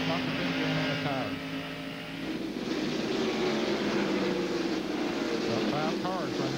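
A pack of race cars at Bristol roars together in a 1998 race, a loud sustained engine drone with shifting pitch, under a commentator's voice.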